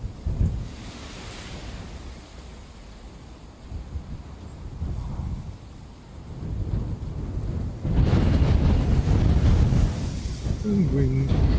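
Strong wind buffeting at Dublin Airport, a roaring, gusty rumble that swells and fades, surging loudest near the end, heard close as it hits the microphone.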